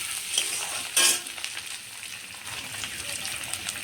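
Tomato and chopped green chillies hit a hot pan for a masoor dal dish, giving a steady close sizzle with a louder burst of spitting just after the ingredients drop in, then settling into even frying.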